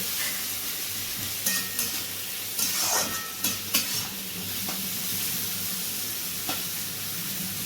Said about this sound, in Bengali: আর এদিকে পেঁয়াজটা ভাজা চলছে